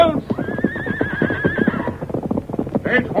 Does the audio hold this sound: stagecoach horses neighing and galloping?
yes